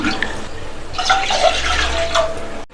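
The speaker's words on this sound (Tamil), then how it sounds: "நான் 2 கப் பால் சேர்த்துருக்கேன்." Thick boiled and cooled milk poured into a cooking pot while making kara kolukattai, a steady liquid pour with splashing lasting a couple of seconds, close and fairly loud.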